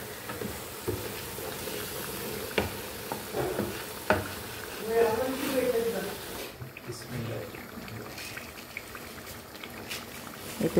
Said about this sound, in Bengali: এই চুলায় তো হাঁস কষানো হচ্ছে